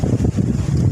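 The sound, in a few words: repaired electric fan blowing air after thermal fuse replacement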